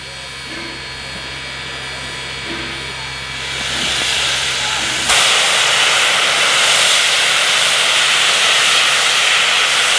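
Wilmington & Western steam locomotives departing Green Bank Station, a loud steady hiss of escaping steam that swells and then jumps to a stronger, broader roar halfway through, with low rumble beneath.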